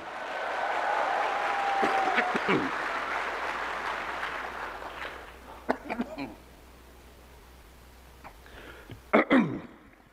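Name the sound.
coughing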